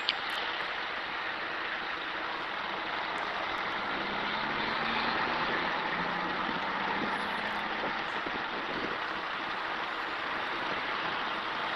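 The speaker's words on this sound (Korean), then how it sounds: "지금 길거리 소음이고요." Street traffic noise, a steady broadband roar of passing vehicles with a low engine rumble swelling midway, continuous and moderately loud with no talk.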